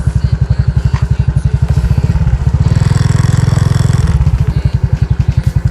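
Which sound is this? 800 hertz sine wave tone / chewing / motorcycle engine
motorcycle engine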